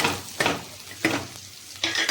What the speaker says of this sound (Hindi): ये इसी तरह सिंपल तरीके से छौंकी जाती है। पहले जीरा डाल देते हैं